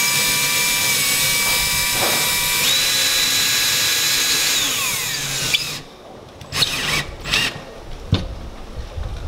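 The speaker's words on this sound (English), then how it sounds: "I need to use my drill." A power drill whines steadily for several seconds, its pitch rising as it drives a screw in, then stops, followed by a few close clicks and knocks.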